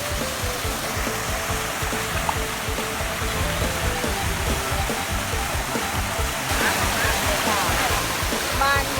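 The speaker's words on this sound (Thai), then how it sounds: "บรรยากาศของน้ำตกเสียงสาวค่ะ" Siang Sao waterfall rushing in a steady, loud, broadband roar that fills the whole stretch without pause, with faint voices and some light sounds mixed in near the end.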